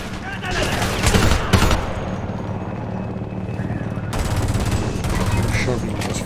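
Gunfire in the video game Homefront, a dense continuous fusillade of rapid shots and bursts with heavy booms, loud and close throughout, layered with battle noise and voices in the mix.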